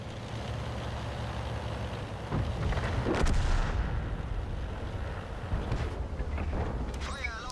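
Tank cannon fire in the World of Tanks video game, with an AMX 13 57F in play: a couple of booming shots and a heavy blast around the middle, over a constant engine rumble, with a voice talking faintly.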